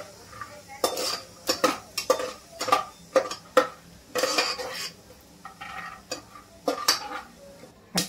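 Peanuts roast in hot oil in a kadhai for Khandesh khichadi, stirred with a metal spoon that scrapes and clinks against the pan in irregular close taps over a faint sizzle.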